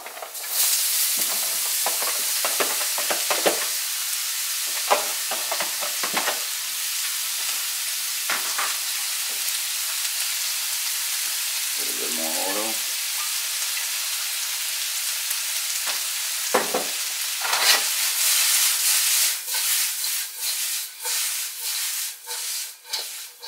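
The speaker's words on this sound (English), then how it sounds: "I'm going to cook it on medium high, and then drop our noodles." Zucchini noodles with garlic fry in oil in a pan over medium-high heat, giving a loud, continuous sizzle and hiss, broken by stirring and scraping sounds, close up with no talk.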